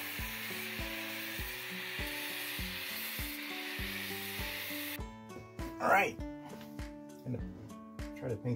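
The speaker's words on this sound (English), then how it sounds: "sand it a little bit with the grinder, flap sander, and get some of this roughness off" An angle grinder fitted with a flap sander smooths the rough face of a wood log slice, harsh uneven rubbing and scraping bursts in the second half, set against steady background music.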